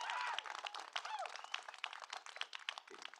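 Graduation audience applause at a 2024 high school ceremony, steady clapping with cheers and voices mixed in throughout, fairly faint and distant.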